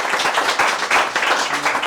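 An audience applauds at a talk on entrepreneurship in Senegal, many hands clapping in a dense, steady patter that holds at a fairly loud level throughout.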